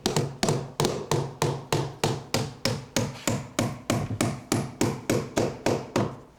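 Hot-dipped galvanized nails are hammered into cedar siding with a steady run of about sixteen sharp, close hammer blows at an even rhythm, each with a brief ringing decay, and no talk.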